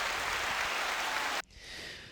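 Canned crowd applause fires from a soundboard clapping button during a casual podcast, a full wash of clapping that cuts off abruptly partway through, leaving quieter residual noise behind.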